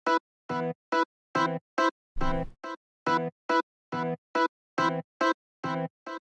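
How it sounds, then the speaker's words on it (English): The Xenology Lord Organ 1 organ preset, slowed with half speed and given delay, plays short choppy staccato chord stabs in an uneven rhythm separated by silences, clear and fairly quiet with no talking. "Now my second preset is actually an organ from Xenology called Lord Organ 1"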